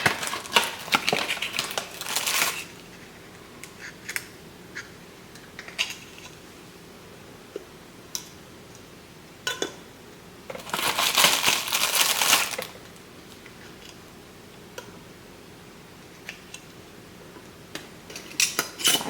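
Metal canning lids and rings clatter and scrape as they are handled close by. Bursts of jangling come at irregular moments between quieter gaps. No voices are heard.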